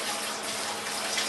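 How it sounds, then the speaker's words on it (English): Fast water jets striking a Dell Latitude Rugged Extreme laptop during a water ruggedness test, a steady, dense splashing hiss, close and continuous. "the water drops, and they're relatively fast jet speed"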